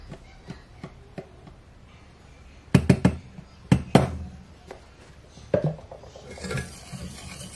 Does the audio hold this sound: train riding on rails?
no